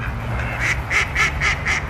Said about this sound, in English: Here's a big goose